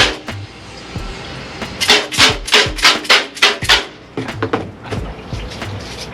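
A brush scrubs emulsion off a wet screen-printing screen in a run of about eight loud, rhythmic wet rubbing strokes, close up, with softer scrubbing and knocks before and after.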